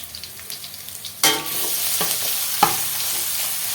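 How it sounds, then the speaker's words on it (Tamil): Ginger garlic paste frying with onions and tomatoes for mutton gravy, a loud sizzle bursting in then settling into steady hissing, with a few scraping stirs of the spoon in the pan. "போட்டு நல்லா பச்சை வாசனை போகிற வரைக்கும் வதங்கட்டும்."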